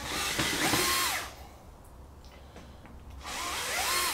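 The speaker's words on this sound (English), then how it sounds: "So let's get these screws out." A power drill runs in reverse to back out screws, a loud whirring burst at the start that winds down, a quieter gap, then the drill spins up again near the end.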